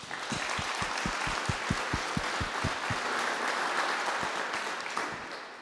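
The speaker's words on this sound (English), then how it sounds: "I think all of our competitors deserve a huge round of applause today" Sustained applause from an event crowd at a young butchers competition grand final, a broad even roar of clapping with a few sharper near claps punctuating it.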